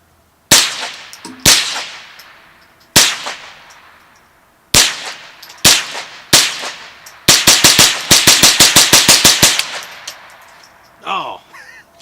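Remington 597 rifle firing copper plated bullets outdoors: several single sharp loud shots spaced apart, then a fast rapid-fire string of about a dozen cracks, each with a short echoing tail.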